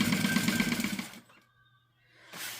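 A sewing machine back stitches a seam, running in a dense, steady whir that cuts out after about a second, leaving a quiet pause before the motor starts again near the end.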